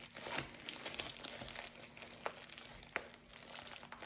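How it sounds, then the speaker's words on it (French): Diamond painting canvas being unwrapped from its plastic packaging, with close, continuous crinkling and rustling and a few sharper crackles, fairly quiet and with no talk. "Alors, je déballe"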